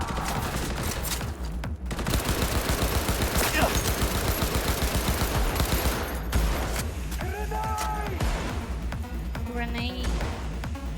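Sustained rapid gunfire and bursts of automatic weapons in Cyberpunk 2077: Phantom Liberty, loud and dense for several seconds, with voices speaking over the shooting near the end.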